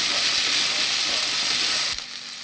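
Steady, loud sizzle of a mash of raw and boiled egg with chopped chilli and tomato frying in a pan, close and continuous, easing slightly near the end as stirring shifts.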